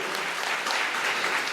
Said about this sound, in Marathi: सर्वांनी टाळ्या वाजवायच्या आहे जोरात.